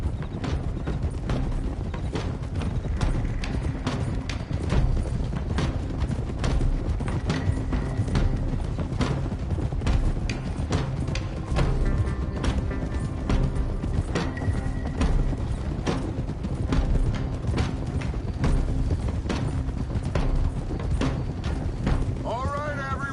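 Several horses ridden together in Red Dead Redemption 2: a steady, close clip-clop of hooves carries on throughout, with voices and occasional creaks from the tack underneath.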